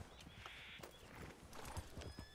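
Horses in the Red Dead Redemption 2 game world, hooves clip-clopping in a quick irregular rhythm over steady background ambience, with a brief whinny-like tone and faint chatter mixed in.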